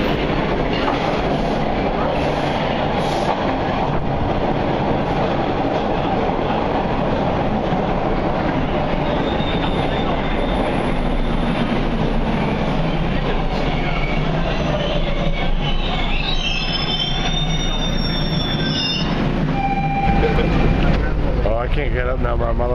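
Toronto TTC subway train running, a loud continuous rumble and rattle of wheels on track with high squeals and screeches near the end, heard from inside the car.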